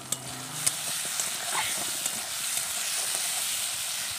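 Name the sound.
potato and eggplant frying in a pan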